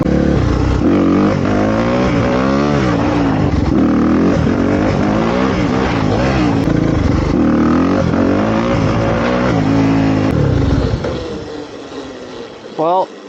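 Motorcycle engine revving hard and dropping back during wheelie practice, rising and falling in repeated surges close by, then easing off to a low idle near the end.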